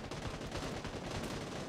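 Gunfire in PUBG New State on the Erangel map, a rapid burst of shots, muffled and fairly quiet, with no talk over it.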